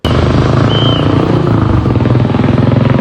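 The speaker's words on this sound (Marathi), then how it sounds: "सायलेन्सर लय बेकार आहे हो गाडीचं. नुसता आवाज करला तो." A loud Royal Enfield Bullet motorcycle engine with a harsh, throaty exhaust from a bad silencer thumps steadily and close by, a continuous rumbling drone with rapid regular pulses throughout.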